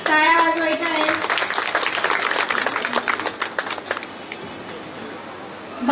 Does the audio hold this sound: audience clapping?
yes